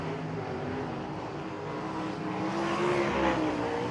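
Shane Cottle's number 39 car runs a dirt track at Bubba Raceway Park during the USAC Winter Dirt Games, its engine a continuous, fairly distant roar that swells slightly toward the end.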